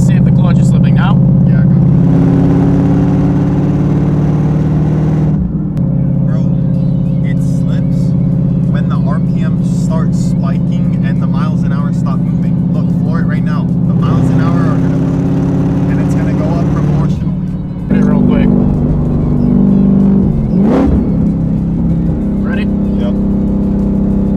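Ford Mustang engine being revved during a drive to test a slipping clutch, loud sustained engine drone rising and dropping through several surges, heard from inside the car with a person talking over it.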